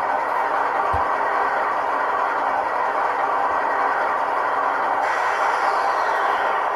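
A LokSound decoder in a weathered KATO C44-9 BNSF model locomotive plays its air compressor sound, a steady, close hissing rumble that shifts slightly partway through, with no talk.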